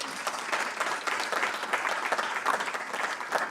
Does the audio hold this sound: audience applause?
yes